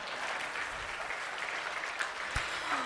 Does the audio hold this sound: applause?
yes